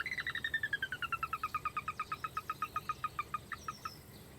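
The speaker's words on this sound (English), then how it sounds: "We actually load the files on there of the soras, all three different main calls." Recorded sora call played through a digital MP3 sound system in a dense marsh: a long descending whinny of rapid, evenly spaced piping notes, clear and fairly close, with no talking.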